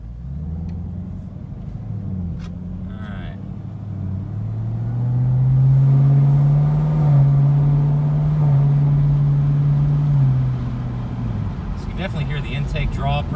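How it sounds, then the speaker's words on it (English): A ZL1 Camaro with a K&N carbon fiber cold air intake driving, its engine and intake roaring up into a strong, swelling drone midway before easing back down, heard from inside the car. "Definitely hear the intake draw pretty hard now compared to the stock intake."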